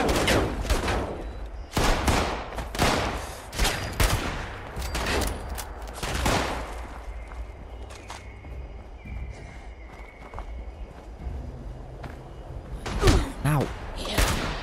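Gunfire in the post-apocalyptic video game Fallout 76, with repeated sharp shots and bursts aimed at the player over the first seven seconds, then quieter game ambience and a loud shot near the end.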